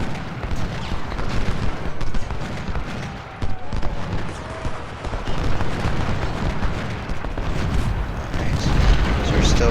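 Troops trading musket and cannon fire in the Civil War strategy game Ultimate General, a dense continuous rumble of distant volleys and booms that swells toward the end.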